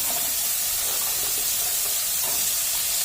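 Chopped carrots and beans hit a hot oiled pan for upma and give off a loud, steady, close sizzling hiss that never lets up.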